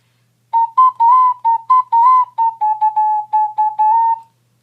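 A short repeating riff from the Tokyo Ghoul opening song, played from tab as a simple alternating two-note pattern, in a steady run of about fifteen clear, pure, whistle-like notes, close and loud, with no talking.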